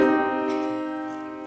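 A minor third interval sounds as a sustained pair of notes on a keyboard during a music theory lecture, steady and fairly loud with no talking over it.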